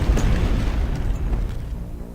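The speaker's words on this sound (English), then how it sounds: "Hopefully we're safe down here and can get a glimpse of the explosion" Explosion in the video game Dex: a deep, rumbling boom with heavy low-end roar that slowly fades away, with no talking over it.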